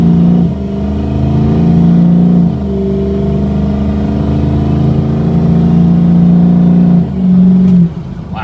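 A car engine revs loudly and steadily up close, its pitch dropping and climbing again at each gear shift, with brief dips in level between pulls.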